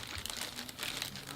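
Crinkling of a plastic bag taped inside the box of a Panasonic DMC-FZ2000 camera during unboxing, a steady close rustle of dense crackles that runs the whole moment without pause.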